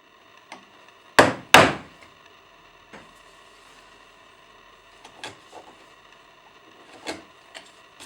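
A hammer striking a chisel to cut a mortise: a few sharp wooden knocks, two loud strikes close together followed by lighter, scattered taps in a quiet room.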